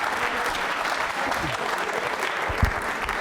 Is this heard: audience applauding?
yes